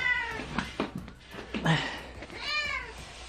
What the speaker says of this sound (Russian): Слышим, короче, что-то мяукает.